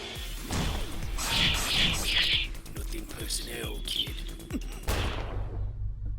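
Rapid machine gun bursts in a Henry Stickmin game, loud and sharp against busy game effects with whooshes and impacts, ending in a heavy thump.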